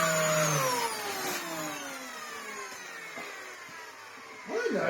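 A Dyson DC07 upright vacuum cleaner, just fitted with a new belt, runs with a steady motor whine that sweeps downward as it settles, loud and close, with no talk over it.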